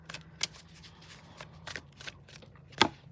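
Tarot cards being shuffled in a series of short, crisp riffles and slaps, with a few louder snaps standing out against quiet handling noise and a low steady hum; no one speaks.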